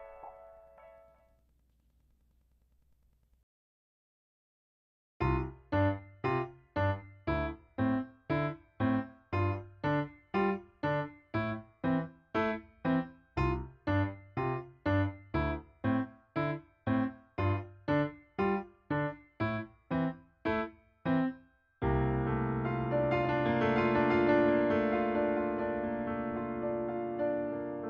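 Solo piano plays the five-chord intro of a song as a steady series of evenly pulsed chords, followed by a fuller sustained passage; no voices.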